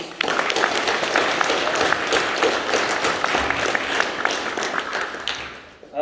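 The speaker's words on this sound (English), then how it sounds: "please give Steve a round of applause" A crowd applauds steadily at a school academic prizegiving, many hands clapping in a dense, sustained wash that holds for several seconds before tapering slightly at the end.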